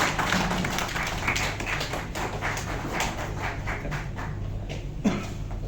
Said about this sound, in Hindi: जरा आप लोग जोरदार तालियों से स्वागत कीजिए।